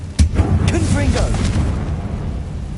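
A Confringo explosive spell blast in the Hogwarts Legacy video game hits with a sharp burst near the start, followed by a rumbling, crackling tail with a voice speaking over it.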